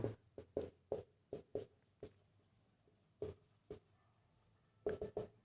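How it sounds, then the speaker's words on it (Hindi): Chalk or marker writing on a board during a numerical analysis lesson produces a quick series of short, crisp taps and strokes in irregular bursts, close and fairly quiet, with no talking. "अब नीचे में लिख रहा हूँ गाज बैकवर्ड"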